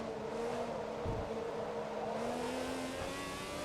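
A car engine in Forza Motorsport 2 holds a steady, droning note that climbs gradually in pitch, with one brief thump near the middle and no voices.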